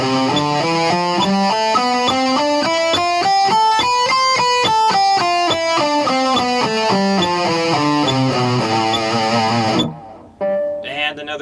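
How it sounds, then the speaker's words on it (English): Electric guitar picking triplets, three notes per metronome beep, running an ascending then descending scale at a steady pace over faint beeps, before stopping and a voice begins to speak. "do triplets, which would be three notes on every beep"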